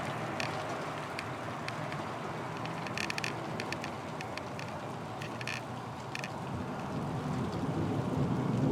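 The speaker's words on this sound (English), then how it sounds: "Yeah, it's starting to rain a little bit." Light rain falling outdoors during a thunderstorm season in Tornado Alley, a steady soft wash of drops with faint patters, continuous and even throughout with no talking.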